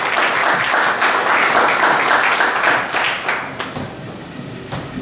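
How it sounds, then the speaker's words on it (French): A loud round of audience applause for the federal secretary at a federation's eighth anniversary event, with strong sustained clapping that gradually thins out toward the end. "Sous vos applaudissements, s'il vous plaît."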